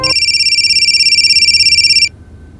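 A phone rings loudly and steadily with a fast repeating electronic trill, then cuts off abruptly near the end, leaving faint room noise.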